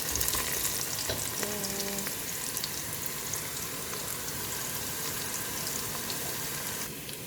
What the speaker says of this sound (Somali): shiil waa lasii shiilayaa insha allah.